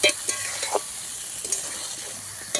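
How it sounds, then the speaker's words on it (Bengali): Meat and potatoes with turmeric fry and sizzle over a wood fire while being stirred, with close, steady crackling broken by several short scraping stirs and no talking. "এবার আলু সহ আমি এখন এটাকে ফ্রাই করব মানে একটু হলুদ দিয়ে দাও কালারটা হওয়ার জন্য আলুর"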